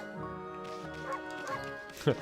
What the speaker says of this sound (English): I was pressing B to bark as well